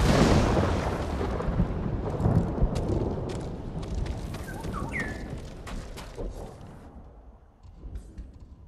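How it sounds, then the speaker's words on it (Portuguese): Thunderstorm in the video game Ghost of Tsushima: a loud, deep rumble of thunder that rolls on and slowly fades over several seconds, with a faint rain hiss beneath and a brief higher cry partway through. "Uma tempestade próxima."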